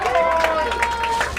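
Rugby crowd reacting after a successful penalty kick in a club derby, a broad roar of cheering and applause under a commentator's voice.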